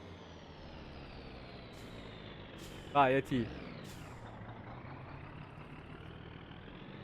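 In the My Summer Car video game, a Gifu vacuum truck rumbles along and lets out a sharp hiss of air brakes midway, with a second short burst right after, while someone talks over the steady engine drone.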